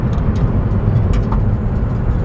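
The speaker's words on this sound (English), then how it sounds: "For being a kind of a low rider truck, rat rod truck, it's pretty quiet." A 1952 Chevrolet 3100 rat rod pickup truck running quietly, its steady low engine rumble continuous and close throughout with no rattles.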